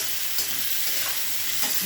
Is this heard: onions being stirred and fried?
yes